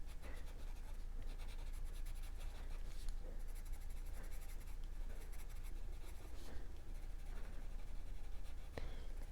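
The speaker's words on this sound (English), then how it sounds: "I will use the blender pencil and see if it makes a difference." A Blick Studio blender pencil rubs across paper in continuous scratchy strokes, close and steady, while blending colour on a flower drawing.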